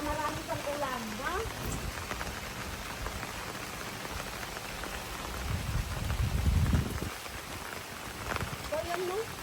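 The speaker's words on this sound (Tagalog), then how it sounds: "Kumbaga marami pang ulan" Steady rain pouring down on a farm, a constant close wash of drops with a heavier surge near the middle, while people talk faintly in the background.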